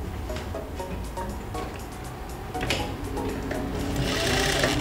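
A sewing machine stitches a patchwork seam, its rapid, steady mechanical ticking running continuously and growing slightly louder toward the end.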